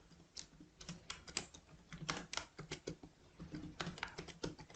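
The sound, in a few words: typing a name on a computer keyboard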